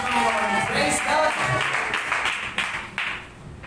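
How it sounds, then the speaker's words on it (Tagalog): Congregation at a Sunday morning church worship service breaks into loud applause, a dense, sustained wash of clapping close and full, with voices mixed in, easing slightly toward the end. "So malakas na palakpak para sa ating Panginoon"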